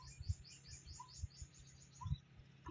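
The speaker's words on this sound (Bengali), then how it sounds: "প্রচুর পাখি আছে এখানে, বিভিন্ন ধরনের।" Birds chirp in a quiet forest by Shirpur Lake, a faint rapid series of high trilling notes with a couple of softer calls, distant and alone.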